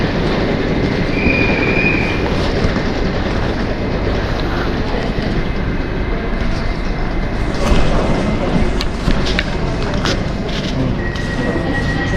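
A train at a railway station rumbles loudly and steadily, with rolling wagon noise, occasional wheel squeals and faint clicking over the rails, heard close by without speech.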